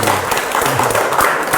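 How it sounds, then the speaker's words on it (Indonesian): Brief burst of applause in a school gathering, a dense patter of hands clapping with a few thumps mixed in. "Tepuk tangan dulu"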